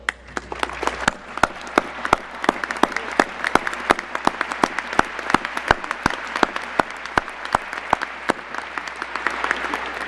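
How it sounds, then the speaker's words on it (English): A crowd at a press conference applauds steadily, with sharp individual claps standing out over a continuous bed of clapping that carries on evenly throughout. "please stand up and receive a round of applause."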